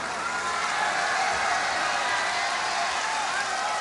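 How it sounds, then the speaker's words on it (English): Steady, moderately loud crowd applause fills an Olympic tennis stadium at the Beijing Olympics as a women's player leaves the court. The clapping continues evenly for the whole stretch. "Lina getting a big applause as she leaves the tennis court."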